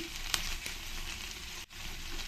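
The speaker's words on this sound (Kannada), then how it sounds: "ಇದು ಫ್ರೈ ಆಗ್ತಾ ಇರುವಾಗೇನೆ ಇದಕ್ಕೆ ಒಂದು ಸ್ಪೂನಷ್ಟು ಶುಂಠಿ ಬೆಳ್ಳುಳ್ಳಿ ಪೇಸ್ಟ್ ಸೇರಿಸ್ತಾ ಇದ್ದೀನಿ" Ginger garlic paste frying in hot oil for corn fried rice, a steady close sizzle with crackles and a few sharp pops, one brief dip near the end, no talk.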